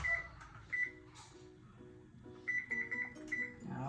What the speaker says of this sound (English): just put it in there and set the timer on 13